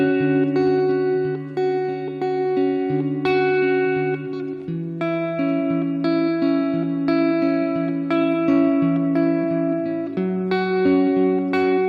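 Electric guitar slowly working through the chord progression of a worship song, sustained chords ringing out one after another with reverb and effects, a steady close and clear performance with no talking.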